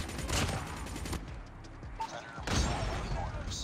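Rapid SMG fire in Call of Duty Mobile comes in dense bursts with a brief gap in the middle. The shots are moderately loud and are mixed with game sounds and faint voices.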